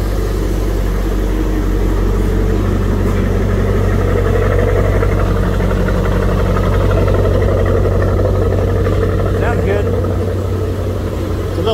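A car engine idles steadily on a humid day with a constant low rumble and hum, loud and close, condensation at the exhaust, with faint talk underneath.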